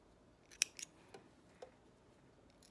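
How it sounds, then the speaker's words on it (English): Scissors snipping loose sewing threads on a garment, a few quick, faint cuts close by in a quiet room, with no talking. "Then I trim the threads"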